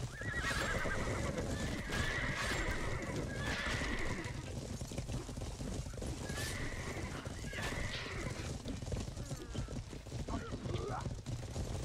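Horses whinny several times amid clattering hooves and chaotic battle noise in the video game Odin's Chosen, with voices faintly present beneath.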